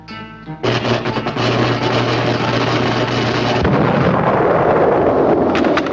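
A cartoon booby trap goes off with a sudden loud blast, followed by a sustained rumbling roar with crackling debris that keeps building for several seconds, alone without voices.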